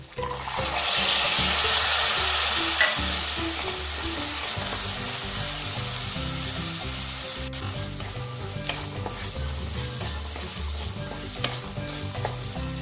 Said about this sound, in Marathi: यामध्ये लगेच आपल्याला हरभरे टाकून घ्यायचे आहे